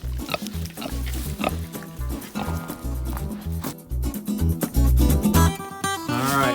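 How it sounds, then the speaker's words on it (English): Young adolescent pigs on a farm squeal and grunt close by while waiting for food, a loud, busy jumble of shrill cries and snorts with rising squeals near the end. "that's where the pigs sit there and squeal and wait for their food"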